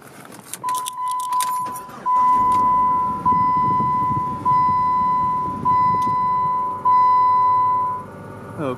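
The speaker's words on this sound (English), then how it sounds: "So please turn on the ignition." A car's ignition is switched on after a jingle of keys, bringing a steady electronic chime tone and a series of repeated swells of dash and fan noise, close and loud with no talking.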